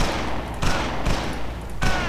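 Gunfire in the first-person shooter XIII: three separate sharp shots land about half a second apart, loud against steady game background noise, with no talk.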